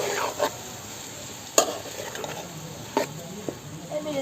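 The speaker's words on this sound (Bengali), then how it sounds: "দিয়ে এখন ভালো করে নাড়াচাড়া করে মিশিয়ে নিব" Kolai greens with salt stirred and mixed in a pan, with several distinct sharp scrapes and clanks of a spatula over a soft, low frying sizzle.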